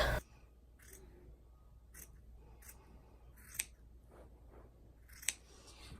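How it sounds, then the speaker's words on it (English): Scissors snip through fleece blanket fabric for a no-sew tie blanket, with a series of crisp, separate cuts spaced irregularly, two sharper snips standing out, close and fairly quiet in an otherwise still room. "So we're going to go ahead and cut all of that off"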